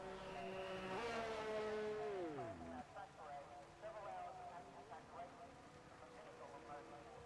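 A Ferrari race car in a racing video game whines through its engine, with a falling pitch sweep as it slows while coming into the pits, under steady game engine noise and a voice commentating.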